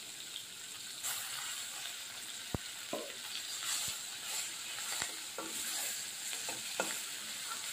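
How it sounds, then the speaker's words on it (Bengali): Chopped onion fries in a pan with a constant soft hiss and sizzle, broken by occasional light spoon taps and stirring scrapes, close by with no voices. "পেঁয়াজ কুচি দিয়ে আমি হালকাভাবে লালচে করে নেব"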